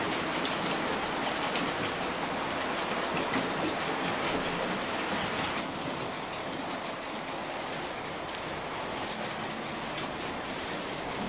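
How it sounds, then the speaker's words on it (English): A local passenger train pulls into the station on the Byford model railway, a steady rushing rumble that holds evenly throughout with no voices. "we will see the local passenger train arriving"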